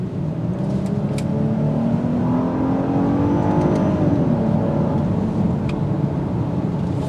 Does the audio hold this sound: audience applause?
no